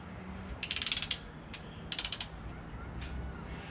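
A ratchet wrench tightens bolts during a hydraulic lifter install on a Ford 351 Cleveland engine: two quick bursts of close, crisp ratcheting clicks, each a rapid run of several clicks, with a quiet shop between them.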